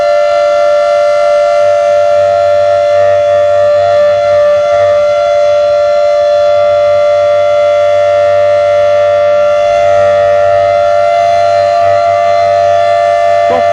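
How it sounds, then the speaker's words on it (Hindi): A civil defense siren wails loud and continuous over a blacked-out Doda town, its steady tone droning without pause and filling the whole stretch with no voices. "जोर का सायरन इस समय बज रहा है और लाइटों को बंद कर लिया गया है।"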